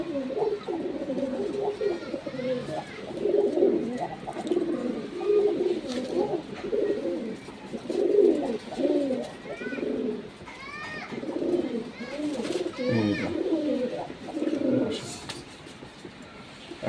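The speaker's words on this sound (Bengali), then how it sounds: "খুব বড় বিটারের কবুতর।" Large pigeons, hens among them, coo in a dense, overlapping chorus that goes on throughout, with a person talking over the birds.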